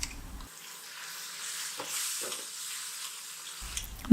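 Ground tomato paste sautéing in oil for a non-veg gravy, giving a soft, continuous hissing sizzle with faint stirring. No voices are heard.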